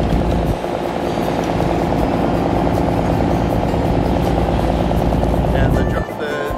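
A ferry's engine near Krabi, Thailand drones in a steady, loud, rumbling hum throughout the ride, with voices talking over it, before dropping off sharply near the end.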